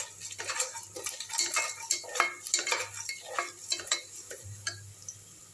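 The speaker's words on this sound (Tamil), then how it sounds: "நல்லா இன்னும் கொஞ்சம் வதங்கட்டும்." Onions frying and being stirred in a pan for mutton biryani. A close sizzle is punctuated by repeated rhythmic scrapes and clinks of a metal spoon against the pan.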